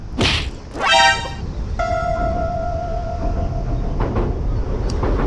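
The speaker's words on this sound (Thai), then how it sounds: "เอาจะเสียงดังแล้วมีรถไฟด้วยด้านบน" A loud rumbling train roars past close overhead while fishing, with a long steady horn-like tone and a screeching rail squeal over constant low rumble.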